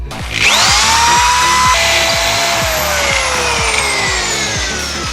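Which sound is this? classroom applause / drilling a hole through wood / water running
drilling a hole through wood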